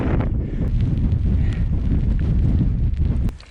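Strong wind on the Ben Nevis summit, roaring and buffeting hard against the microphone in a loud, continuous gust that eases off briefly near the end.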